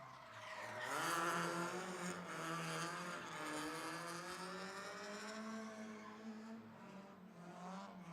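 A Subaru BRZ race car in qualifying at a Great Lakes ProAm Series drift event, its engine wailing through rising and falling revs with a sustained tire squeal, loud and close throughout.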